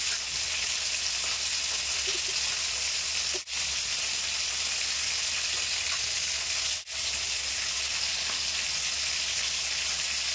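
Fish heads fry in hot oil with a steady, hissing sizzle that runs close and even, broken twice by brief dips, with no talking.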